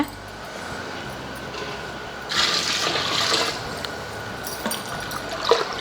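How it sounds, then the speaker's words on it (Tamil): Water is poured into a pot of biryani masala and chicken, a soft splashing gush that begins partway through, runs for about a second, then trails off into quieter trickles and faint bubbling. "இப்போ இதில் வந்து தண்ணி ஊற்றிக்கலாம்"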